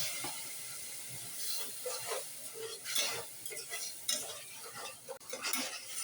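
Garlic paste, turmeric, chili and cumin powders are stirred and fried in a pan, giving a steady hiss of sizzling oil with repeated scraping strokes of a spoon and soft clinks close by.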